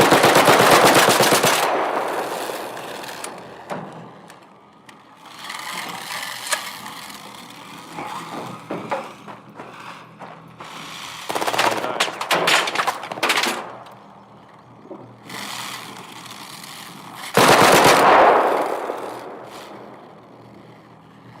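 Bursts of automatic gunfire in Arc Raiders, with loud rattling volleys at the start, in the middle and near the end, and quieter shots and scattered impacts in between.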